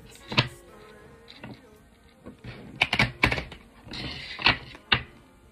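A deck of Oracle des miroirs oracle cards is shuffled up close, with scattered papery flicks and soft slaps that bunch into denser bursts toward the end.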